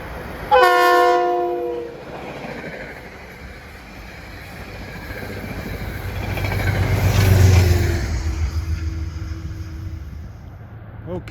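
Metro-North train 878, running Poughkeepsie to Grand Central, sounds a loud multi-tone horn blast near the start, then rumbles past with a swelling roar of wheels and cars that fades slightly toward the end.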